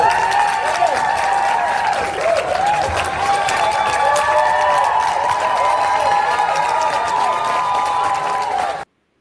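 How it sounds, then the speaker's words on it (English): An audience in a Senate hearing room at the Capitol breaks into sustained applause and crowd noise as RFK Jr. walks in, dense and steady for several seconds before cutting off abruptly. "They applauded as this man walked in the room"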